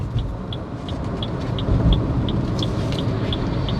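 A Toyota Urban Cruiser Hyryder strong hybrid SUV, heard from inside while making a U-turn: a steady low road and drivetrain hum with an evenly spaced ticking, like a turn indicator, clicking throughout.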